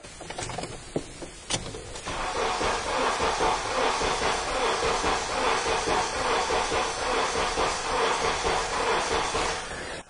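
A car engine cranks steadily for several seconds during a compression test in a home garage, a continuous even whirring churn after a few short clicks, close and fairly loud, with no talk.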